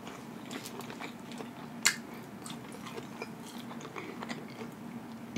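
Close, wet chewing and biting of a quadruple burger, with soft crunches and squishy mouth sounds in an irregular rhythm and a sharper bite near the middle, no talking.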